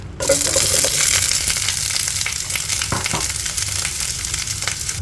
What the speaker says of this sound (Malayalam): നമ്മൾ അതിലേക്ക് കുറച്ച് വെളിച്ചെണ്ണ ഒഴിച്ചു കൊടുക്കുക ഇനി നമ്മൾ എടുത്ത് വെച്ചിരിക്കുന്ന വഴുതനങ്ങ ഇട്ട് അതൊന്ന് വഴറ്റിയെടുക്കുക